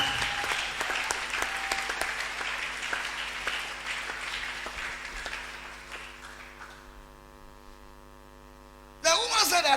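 A church congregation claps to acclaim Jesus Christ: dense applause fills the first several seconds and gradually thins out over a steady electrical hum, then a sudden loud burst breaks in near the end.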